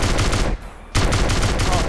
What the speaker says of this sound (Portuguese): Pode atirar à vontade. Olha a potência da arma